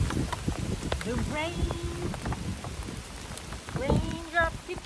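Steady rain falls in a backyard garden with citrus trees and moringa, a dense continuous patter throughout, while a voice speaks and sings softly over it.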